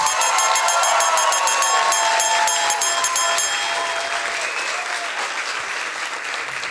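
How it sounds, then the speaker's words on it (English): A science slam crowd at the Berlin Clusters of Excellence breaks into big, loud applause for a speaker. Sharp, rhythmic accents run over the first half before the clapping settles into a steady wash that slowly thins. "Big applause for June"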